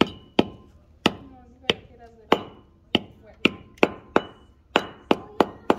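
Sharp metallic hammer strikes on a metal rear axle seal of a Chevy Silverado 2500, about a dozen, through a rag, in a steady uneven rhythm, each ringing briefly, close and loud with no talking.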